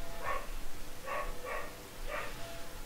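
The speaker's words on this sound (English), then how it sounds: "Sorry about my dogs being noisy." Dogs barking indoors at a moderate distance, four short separate barks in an uneven rhythm over quiet background noise, with no talk.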